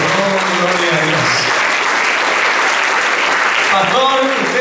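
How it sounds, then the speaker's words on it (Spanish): A church congregation at a Sunday service applauds in steady, sustained clapping that fills the room, with a preacher's voice and singing audible over the applause. "Apláudale a Jesucristo."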